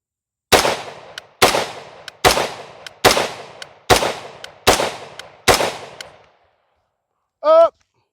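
Seven evenly spaced rifle gunshots ring out at a short-range target about 5 yards away, each a sharp loud crack with a decaying tail, followed by a brief tonal chirp near the end.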